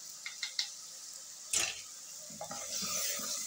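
Beef and spices for aloo gosht korma being stirred in a pot: soft scraping and clinking of a spoon against metal, a few sharp taps, then a gentle sizzle building under the stirring, all fairly quiet.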